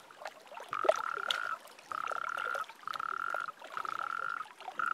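Toads in mating season calling in the wild, four long, sustained trilling calls in steady succession with short gaps, moderately near, over a faint crackling background.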